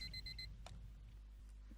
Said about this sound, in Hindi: जैसे कि हम सुन रहे हैं अलार्म की आवाज़